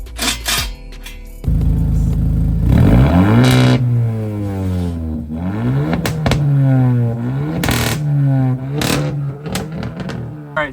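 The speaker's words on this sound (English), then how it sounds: "Now let's bolt on the other exhaust and see how that sounds." A Hyundai N-Line car fitted with an aftermarket exhaust revs hard and loud, its engine note sweeping up and down in repeated close blips, with no talk over it.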